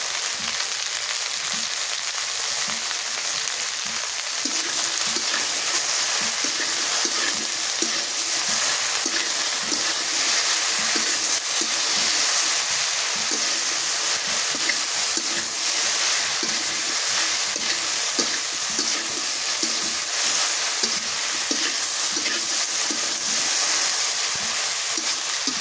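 Okra frying in a pan with turmeric and salt, a steady, dense sizzle that hisses continuously and evenly throughout, close and fairly loud with no talking.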